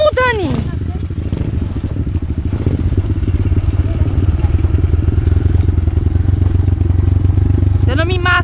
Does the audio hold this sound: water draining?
no